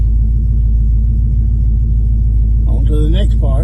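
A 1970 Dodge Coronet V8 idling after a new carburetor is fitted, a loud steady low rumble throughout, with someone speaking over it near the end.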